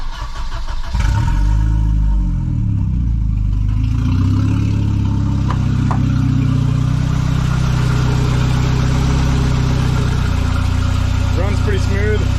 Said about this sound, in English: It almost sounds like it's got a bit of an exhaust leak somewhere. It could just be valve tick because the oil is really old.